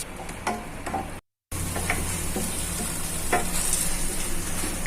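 Tomatoes sauté in a hot pan with a constant loud sizzle, broken by intermittent spatula scrapes and taps; a brief drop to silence interrupts it near the start, and no one speaks.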